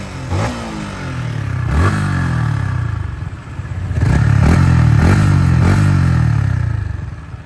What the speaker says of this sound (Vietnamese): Máy êm, không ra khói.